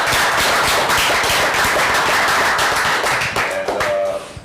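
An audience applauding, dense rapid handclaps filling the space loudly and steadily before tapering off near the end.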